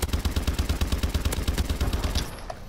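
Rapid automatic fire from the Pytaek gun in Call of Duty Advanced Warfare, a steady fast rhythm of punchy close shots for over two seconds, then stopping with a brief clatter.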